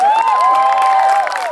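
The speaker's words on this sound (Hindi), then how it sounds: "घटिया लोगों के लिए ताली हो जाए।" Crowd at a sangeet celebration clapping and cheering, a loud, dense wash of voices and applause continuing steadily throughout.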